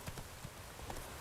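Roach the horse's hooves clip-clop at a walk in The Witcher 3 on PS4, quiet and close with an even, unhurried rhythm of soft thuds and no voices.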